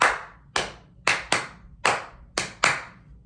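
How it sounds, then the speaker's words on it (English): Hands clap out a rhythm in sharp, close, loud strikes, some single and some in quick pairs, about eight claps in a steady uneven pattern with no talking. "so try clapping that along with me doing it right now"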